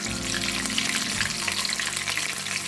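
Pieces of chicken deep-frying slowly in oil on a stovetop over a medium flame, giving a steady, dense crackling sizzle that stays close and even throughout, with no voices.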